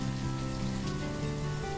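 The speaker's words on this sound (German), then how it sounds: "Ich sehe Regen." Rain falls in the city-building game Banished, a dense, constant patter of drops on surfaces, loud and unbroken throughout the short stretch.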